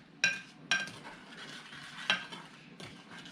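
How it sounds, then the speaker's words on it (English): A spoon stirs a kimchi mixture of sugar and fish sauce in a pot, giving a few sharp clinks against the rim over a low steady simmering hiss. "stir it up, and then we're just going to bring this to a simmer"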